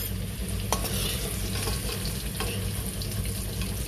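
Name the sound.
potatoes frying in a pan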